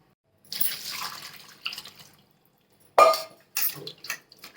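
Tap water is poured over radish leaves in a kitchen sink to soak them, running in several short splashing bursts separated by brief pauses, close and moderately loud with no talk.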